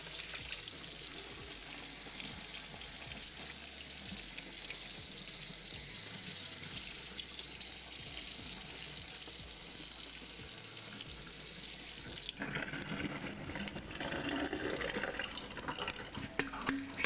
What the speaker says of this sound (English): Drain that water out. Give this a little rinse out.